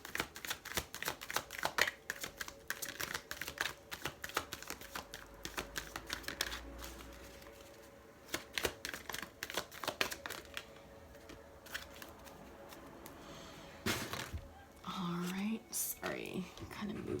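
Sacred Rebel Oracle cards are shuffled close up in soft, irregular riffles and flicks that continue for most of the stretch. A quiet voice speaks briefly near the end.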